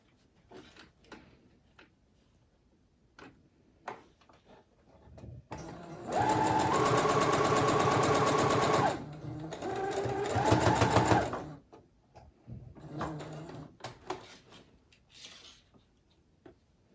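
A sewing machine stitches a quarter-inch seam on a fabric face mask, a fast rhythmic whir of needle strokes running close for about five seconds, a brief pause, then more stitching, framed by quiet rustling and handling of the cloth.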